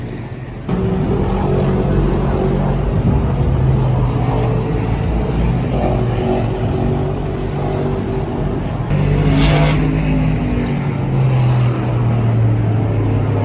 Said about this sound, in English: You got the classic muscle cars racing around Laguna Seca